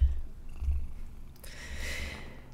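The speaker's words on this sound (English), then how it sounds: "Try to ignore the cat rubbing her face all over the desk." A cat purring softly while rubbing her face on a desk, a low steady purr with a brief brushing rustle near the end, quiet and close.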